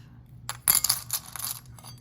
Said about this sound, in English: in this tray I have a lot of small keys